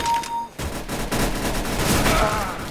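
Rapid gunfire in the video game CS:GO fires in a loud, dense burst of overlapping shots that runs nearly continuously for a few seconds, up close.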